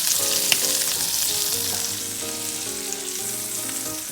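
Lamb and sausage meatballs browning in a pan fry with a loud, dense, continuous sizzle and spatter close by, steady throughout with no talking.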